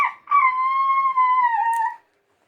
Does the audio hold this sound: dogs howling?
yes